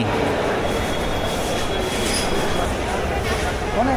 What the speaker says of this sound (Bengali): এই হচ্ছে রাতের কমলাপুর রেলওয়ে স্টেশন। অনেক যাত্রী।